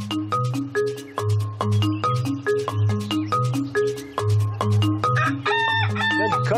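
A rooster crows repeatedly in a loud, close, harmonic cock-a-doodle-doo, the calls running together with a brighter, higher crow near the end and no talking.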